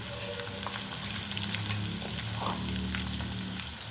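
Spice paste frying in oil in a kadhai, a steady, close crackling sizzle with low bubbling underneath, continuous and even for the whole stretch with no voices.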